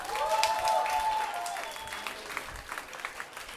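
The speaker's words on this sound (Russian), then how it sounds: "Хуже я не слышал вообще аплодисментов." Audience applause fills an indoor charity jazz concert hall, a steady wash of clapping that is fairly modest and thins out toward the end, with faint tonal sounds above it.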